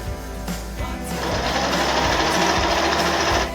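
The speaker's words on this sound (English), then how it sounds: "Now that you've pinned the strips, you can sew them both together." A sewing machine stitches pinned fabric strips together, a fast mechanical whirring that starts after a few short bursts and then runs steadily and close, without talk.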